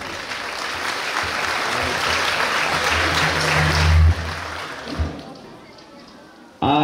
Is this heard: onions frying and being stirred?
no